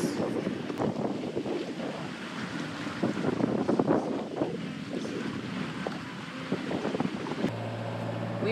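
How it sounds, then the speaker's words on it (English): Gusty squall wind and rushing water wash over a moving sailboat in a steady, moderate roar, with a low hum joining near the end. "We just got in a squall, as you can see,"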